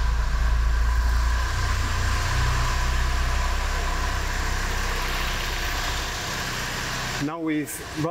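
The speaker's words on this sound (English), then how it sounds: "And then we'll just start the engine." A car engine idling steadily during a crankshaft position sensor test, a low continuous hum, with a brief clattering noise near the end.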